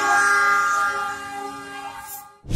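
A train passes close by at a level crossing, its horn sounding in steady sustained tones over rumbling wheels for about two seconds, then the noise briefly dips before a sharp loud burst at the end.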